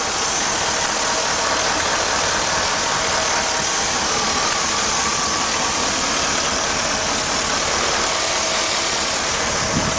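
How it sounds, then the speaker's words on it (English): A Vortec V8 truck engine idling up close, a loud, steady rumbling throb that holds unchanged throughout with no voices. "The motor sounds really good."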